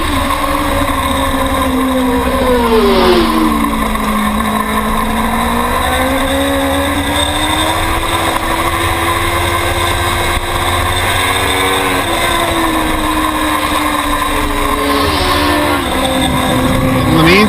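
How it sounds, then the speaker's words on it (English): Modified production racing motorcycles in a novice open class scream past on a WSMC race track. Engines whine steadily and loud, their pitch rising and falling through gear changes, under continuous commentary from an announcer. "the more that Ken Pfister on bike 633 is going to be able to catch back up to Lugo"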